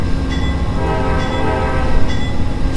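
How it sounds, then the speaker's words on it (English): Amtrak train horn in the Trainz railroad simulator game, a loud sustained multi-tone blast held steadily throughout over a low rumbling train. "I need to change that horn sound."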